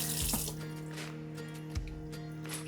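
Water from a tap runs steadily over mallard drake skin being rinsed clean of blood at a sink, a continuous close splashing hiss with a couple of brief thumps and squishes as the skin is handled.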